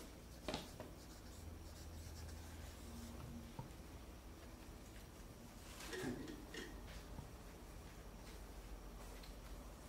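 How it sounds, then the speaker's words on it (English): A pen writes on paper in a quiet room, with soft scratchy strokes and light taps running steadily for several seconds, close and faint, with no talking. "I have to write that down."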